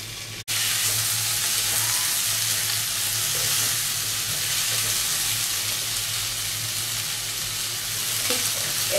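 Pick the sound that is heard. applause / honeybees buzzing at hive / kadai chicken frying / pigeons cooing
kadai chicken frying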